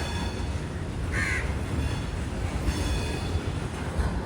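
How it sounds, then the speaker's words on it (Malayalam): A goods train rolls past on the railway near a station outside Jaffna, with a heavy, steady rumble and clatter of wagons filling the air and a crow cawing once over it, with no one speaking. "ഇതിലൂടെ ഒരു ഗുഡ്സ് ട്രെയിൻ പോകുന്നത് കാണാം."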